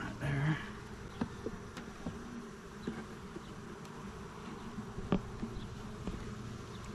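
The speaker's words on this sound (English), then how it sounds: "I want to kill that bee." Honeybees buzz steadily around a beehive frame during a hive inspection, a close, continuous hum with occasional faint knocks and handling sounds.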